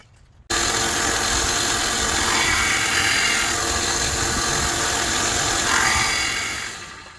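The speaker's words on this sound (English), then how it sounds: "I'm going to put on a little bit finer belt to finish up that cut." A belt sander with a finer belt grinds steadily against a knife handle to finish a cut, starting abruptly and holding a loud, close, continuous whine before winding down at the end.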